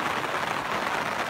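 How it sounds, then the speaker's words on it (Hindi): Heavy rain pouring down in a hill village, a dense, steady hiss that stays close and fairly loud without a break. "दोस्तों जस्ट मैंने खाना खाया और उसके बाद लग चुकी है भाई बारिश"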